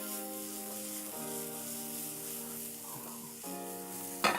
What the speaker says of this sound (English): A little bit of garlic, a little salt and pepper, and into that pan they go.